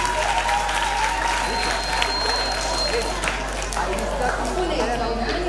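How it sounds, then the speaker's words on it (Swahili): Steady applause from an audience at a children's and youth singing festival, greeting a young singer; the clapping runs dense and continuous throughout with crowd murmur underneath. "Sawa, makofi kwake"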